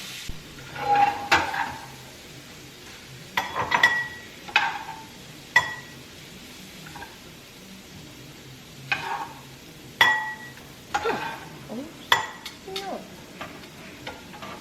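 Already-cooked shrimp for tostadas are stirred in a pan over a faint sizzle, with irregular scrapes and clinks of a utensil against the pan coming every second or two, close by and without speech.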